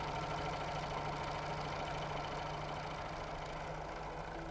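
Janome 6234XL overlocker stitching fabric, a steady close mechanical whirring hum with a fine rapid chatter, running continuously and evenly without pause.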